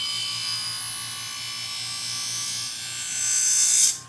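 A diamond wheel grinds the blade of upholstery scissors during sharpening, giving a steady high-pitched whirring buzz close by that swells louder near the end as the blade presses in, with no voices.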